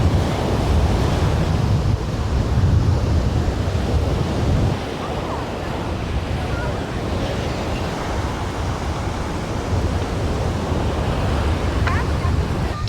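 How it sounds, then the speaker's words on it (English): Wild waves and gusty wind roar on a beach at Koh Larn island in Thailand, a dense, continuous wash of surf and buffeting microphone wind noise, loud and steady throughout, with faint voices underneath. "The wind picked up though, and the waves are quite wild."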